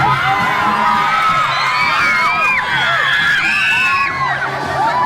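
Children shouting, whooping and cheering together at an ogoh-ogoh gathering in Bali, a loud, dense crowd of overlapping high-pitched yells and cries that carries on without a break.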